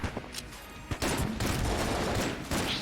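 Rapid gunfire from Enter the Gungeon, with dense overlapping shots and booms from alternated weapons, loud and continuous through the whole brief stretch.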